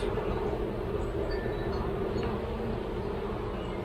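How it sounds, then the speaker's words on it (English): A dense, steady buzz of many bees fills the air close by, droning continuously without pause. "talk to the bees"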